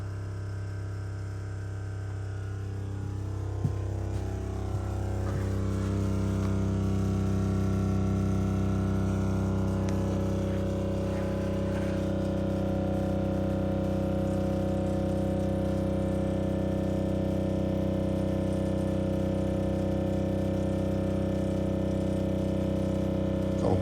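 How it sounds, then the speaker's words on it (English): A boat's freshwater pump runs steadily to fill the accumulator tank, giving a continuous mechanical hum with strong low tones and a few faint clicks, fairly loud and alone throughout. "when it's finished filling that bit up in the accumulator tank, then the pump will turn off."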